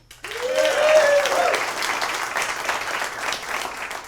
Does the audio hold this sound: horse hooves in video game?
no